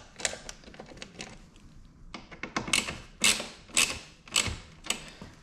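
A ratchet snugging Torx bolts on a C7 Corvette Stage 2 or Stage 3 conversion kit, sharp irregular clicks and metallic ticks spaced apart, fairly close, without talk.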